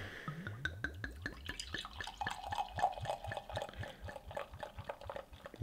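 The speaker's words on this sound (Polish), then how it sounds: "Bardzo ładnie się nalewa." Barrel-aged Baltic porter glugs and splashes into a glass, a rapid series of close, rhythmic pulses that flow unbroken for several seconds.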